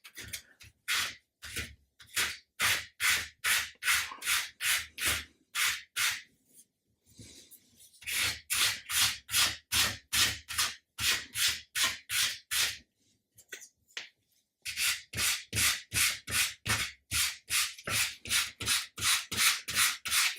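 Sandpaper rubs across the wooden hull of an Amati 1/80 Endeavour model, smoothing out scratches in rapid, even back-and-forth strokes, close and distinct, in three long runs separated by short pauses.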